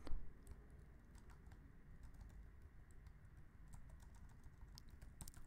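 Someone types Vue.js code on a computer keyboard with quick, light clicks, some clustered and some spaced out, sounding faint against a low hum in the room.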